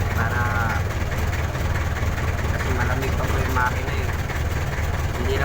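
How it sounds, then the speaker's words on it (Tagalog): A car or similar vehicle's engine idles as it warms up before a trip, a steady low rumble that holds evenly throughout, with faint voices occasionally audible over it. "Kainitin na po ng sakyan."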